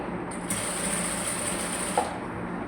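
A sewing machine runs steadily, stitching a hook strip made from a 3-inch cloth piece onto the main fabric of a blouse. The hum is continuous and close, with a brief click near the end, and nobody speaks.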